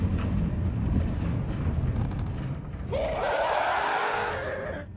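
Ghast-like screeching from a filtered hopper setup in modded Minecraft, a wailing, high-pitched cry that starts midway and holds steady for about two seconds over a constant wind-like rushing background.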